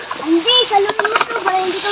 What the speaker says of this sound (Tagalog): Lakad-lakad na sa ilog.